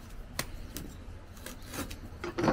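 A knife scores and rasps into a freshly harvested kosandake bamboo shoot with scattered short scraping strokes up close, building to a louder crunchy cut at the end, no voices.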